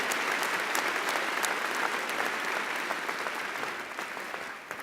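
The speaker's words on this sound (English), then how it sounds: "Give them another round of applause." An audience at a university bachelor's commencement ceremony gives the families in the room a round of applause. Dense, sustained clapping fills the hall at a steady level and tapers slightly toward the end.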